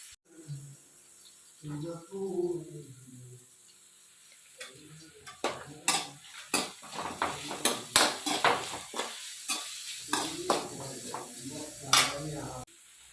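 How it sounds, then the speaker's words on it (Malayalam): Chopped onion, ginger, garlic and green chili sautéed with curry leaves in a home kitchen pan: sporadic clinks and scraping taps of a spoon stirring against metal, with someone speaking briefly at moments. "സവാള ഇഞ്ചിയും വെളുത്തുള്ളിയും പച്ചമുളകും കൂടെ അരിഞ്ഞത് വഴറ്റാവേ കുറച്ച് കറിവേപ്പില ഇടുന്നുണ്ട്"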